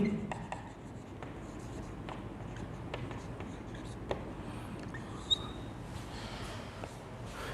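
Board writing during a maths lecture on relations and functions: a steady, scratchy run of pen or chalk strokes with scattered taps, close and fairly quiet, with no talking.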